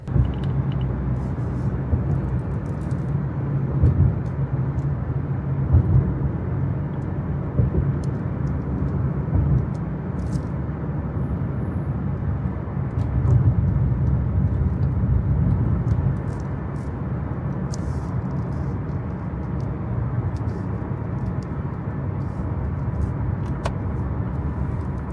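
Sunday afternoon road traffic in Dubai heard from inside a moving car: a continuous low engine and road rumble with a steady wash of passing vehicles, even and unbroken throughout.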